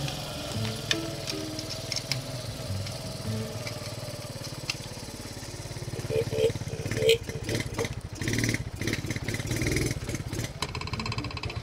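A motorcycle engine runs at a low, buzzing idle, then grows rougher and louder in the second half, with people talking nearby.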